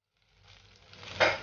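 Brinjal masala sautéing in a pan with oil, a soft sizzle building gradually and then flaring into a brief louder hiss near the end, with no talking.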